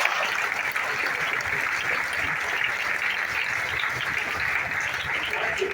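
An audience at a GTS event in Ghatkopar, Mumbai claps in a steady, dense wash of applause lasting several seconds, loud and even throughout.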